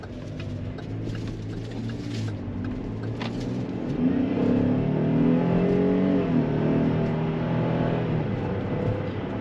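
A 2022 Chevrolet Traverse LT accelerates on the road, its engine rumbling steadily and rising in pitch as the 9-speed transmission shifts smoothly, heard from inside the cabin with no talk.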